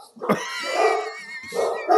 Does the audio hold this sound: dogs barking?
yes